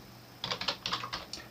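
Keystrokes on a computer keyboard as a web address is typed, about ten quick, irregular clicks in a short burst, close and fairly soft, with no talking.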